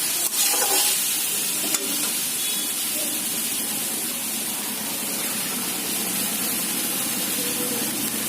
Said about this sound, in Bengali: এবার আমি তরকারিতে পরিমাণ মতো